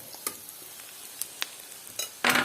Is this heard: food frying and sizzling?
yes